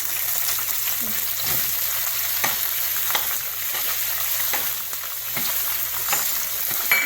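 Capsicum and onion sizzle in a pan with ginger and garlic while being stir-fried for chicken Manchurian, a steady close frying hiss broken by occasional stirring scrapes.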